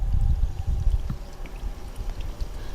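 Water trickles and pours steadily from a mobile soft water tank, a continuous close splashing stream with low rumbling, heard alone.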